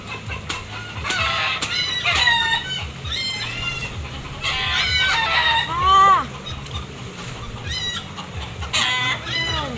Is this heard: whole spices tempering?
no